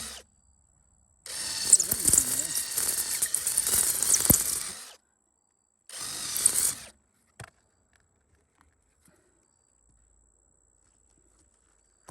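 A power drill whirs in two bursts while plugging a tire, a long run of a few seconds, then a shorter one after a pause, followed by quiet with faint clicks.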